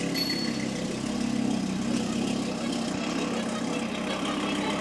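A rebuilt Audi RS3 engine idles with a low, steady rumble throughout, fairly quiet and continuous with no voices.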